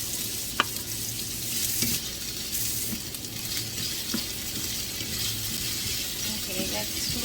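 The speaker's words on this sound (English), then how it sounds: "let's fry the onion" Onion and potato fry in a pan for a Filipino ground meat omelette, giving a steady, close, hissing sizzle throughout, broken by occasional light clicks of stirring.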